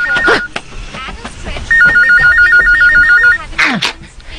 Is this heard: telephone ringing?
yes